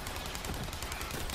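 Rapid automatic fire from the Atlas Carrier gun in Borderlands 3, a dense unbroken stream of shots at steady loud level with no talking.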